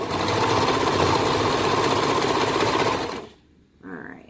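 A serger stitches fabric in one fast, loud, continuous mechanical whir for about three seconds, then stops abruptly, followed by a short quieter rustle.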